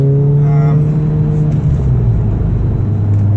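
A Seat Leon Cupra with upgraded Tarox brakes accelerates on the road during brake bedding-in, its engine note climbing through a loud, close, steady drone with harmonic tones that rise and then level out.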